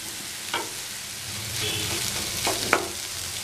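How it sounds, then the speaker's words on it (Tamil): Okra dry-roasts in a pan, giving a continuous steady sizzle. A few sharp clicks of a spatula stirring break through it, and no one talks. "இனி இது நம்ம நல்லா ட்ரை ரோஸ்ட் பண்ணி எடுத்துக்கலாம்."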